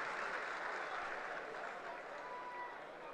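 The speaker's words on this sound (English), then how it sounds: "a round of applause from the packed Neil Fox MBE stand for his efforts" A packed stand at a Betfred Championship rugby league match between Wakefield Trinity and Featherstone Rovers breaks into steady, sustained applause, a broad wash of clapping filling the stadium without pause.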